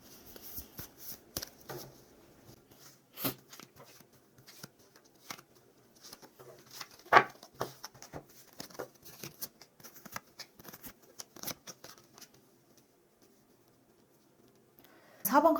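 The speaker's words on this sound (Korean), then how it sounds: "상대방의 속마음 카드 뽑을게요" Tarot cards are shuffled and drawn by hand, with quiet scattered flicks and soft papery taps spread irregularly across the stretch, one sharper snap midway, and a brief burst of noise at the end.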